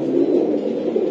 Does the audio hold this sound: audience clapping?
no